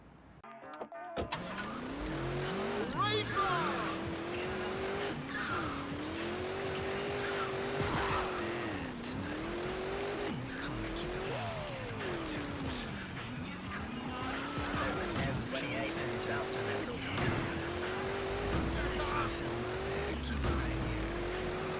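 Ferrari GT sports car driven in a 3D remake of the video game GTA 2, its engine note droning and shifting pitch continuously throughout, with tire squeal and skidding mixed in, loud and close.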